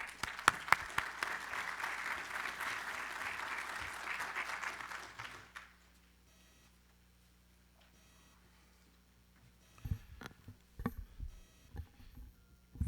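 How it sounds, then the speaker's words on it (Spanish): A large audience applauds at the 2019 industrial forum in Arequipa, with dense, steady clapping for about five seconds before it cuts off, leaving a quiet room and a few faint scattered knocks and handling sounds. "Les pido un aplauso, por favor."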